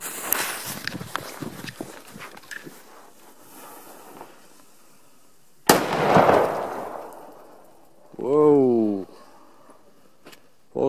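A single firecracker goes off with one sharp, loud bang on a New Year's Eve outdoor scene, followed by a rumbling decay, with scattered earlier thuds and a brief whistling sound near the end.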